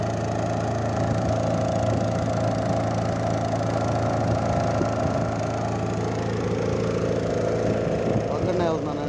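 A boat's engine drones steadily and loudly throughout while riding alone across water toward a hill, a constant mechanical rumble with no pauses.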